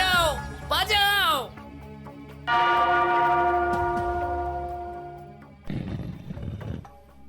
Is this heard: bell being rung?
yes